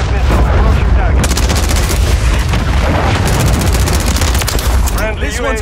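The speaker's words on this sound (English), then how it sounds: "Friendly cruise missile approaching target." A cruise missile strike hits in Call of Duty Modern Warfare 3 multiplayer, loud booming blasts tangled with rapid, continuous gunfire bursts that keep crackling across the whole stretch.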